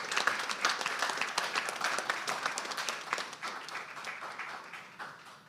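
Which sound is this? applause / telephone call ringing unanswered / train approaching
applause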